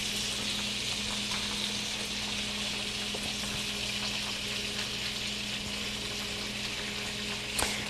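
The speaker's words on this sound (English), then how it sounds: "I've got my butter going. I'm going to fry some of these." Polenta slices frying in butter in a pan, giving a steady, close sizzle and crackle that holds evenly throughout with a faint bubbling undertone and no talk.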